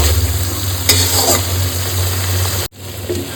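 Spices fry in a pan for a katla fish head curry while being stirred, a steady close sizzle with scraping, a brief clatter near the start and a sharp cut near the end.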